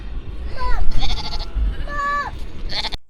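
Sheep bleating up close and loud, two or three wavering calls in quick succession over a low rumble of background noise.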